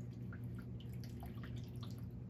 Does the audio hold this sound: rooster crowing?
no